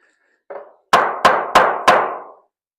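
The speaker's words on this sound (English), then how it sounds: "Toss me that little hammer. Let me hit a staple in over here." A short tap followed by four sharp, evenly spaced blows of a small hammer driving a staple into wood, close and loud, then silence.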